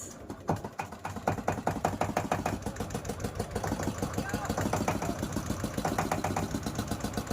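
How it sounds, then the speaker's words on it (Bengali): A boat engine chugs steadily with a rapid, even rhythm, loud and close, on a boat in the Sundarbans, with voices heard faintly over the running motor. "তো ইঞ্জিন স্টার্ট হয়ে গেছে"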